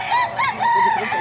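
A rooster of the SBR Mount Banahaw line crows at a poultry seller's stall, a loud, close cock-a-doodle-doo with several rising and falling segments and nothing else around it.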